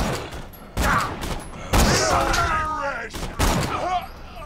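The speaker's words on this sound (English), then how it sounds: "Y'all was just listening to all the gunfire?" Gunfire in the Borderlands video game, several bursts of shots and blasts over music-like tonal game sounds, with talking mixed in.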